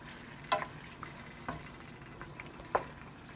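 A pan of chicken adobo is stirred quietly, with a low simmering hiss under a few soft scrapes and clinks spaced apart, faint and close.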